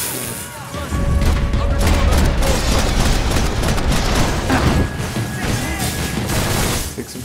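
Gunfire in the third-person shooter Max Payne 3, dense bursts of shots with crashes and impacts layered over game music and background din, continuous and loud throughout.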